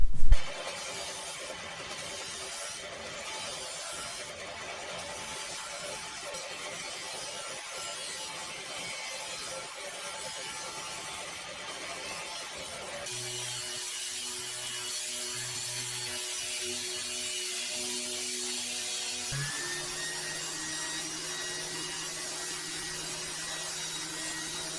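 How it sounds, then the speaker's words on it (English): Disc sander shaping a wooden shelf piece for a drill driver storage and charging station, cutting to a pencil line; a steady rough abrasive whir with a rising pitch partway through, loud and alone without speech. "I think I'm just going to use a sander to probably use the disc sander to follow that line I've just drawn"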